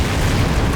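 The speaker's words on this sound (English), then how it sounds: "he's getting heavily artillery struck by the Grenadiers" A heavy artillery explosion in the video game Empires, one dense continuous low rumbling boom that fills the whole short moment loudly, with no talk over it.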